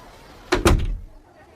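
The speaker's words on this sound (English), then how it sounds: "And the woman closed the door." A door swings shut with two quick heavy thuds close together, loud and near, then fades into quiet room tone.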